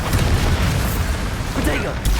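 A Bombarda spell explodes during a fight in Hogwarts Legacy, giving loud, heavy booming blasts over continuous rumbling battle noise.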